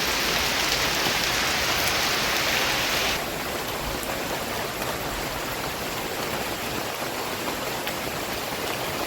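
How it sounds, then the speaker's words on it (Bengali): Heavy rain pours down steadily in a dense, unbroken hiss that stays loud throughout, with no voices. "সেই একটা বৃষ্টি"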